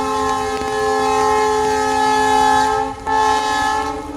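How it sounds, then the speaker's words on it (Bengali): A train horn blows across rain-washed countryside in a long, steady, tonal blast, dipping briefly near the end before resuming, with no voices. "দূরে ট্রেনের ভোঁ শোনা যাচ্ছে।"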